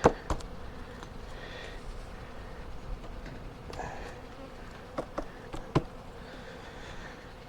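Bees buzzing around a hive being robbed, a steady faint insect hum with a few brief louder passes close by, no talking.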